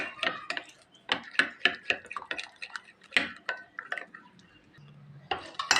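Coloured batter for jackfruit-leaf pitha is mixed in a bowl, making quiet, uneven clicks and taps of a utensil against the bowl in short, irregular bursts, close by.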